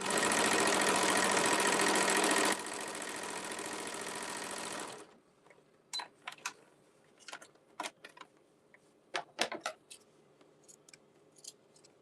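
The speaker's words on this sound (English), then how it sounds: "Let me get these sewn real quick." A sewing machine runs in a steady loud whir for about five seconds, then stops, followed by scattered clicks, snips and small handling sounds close by.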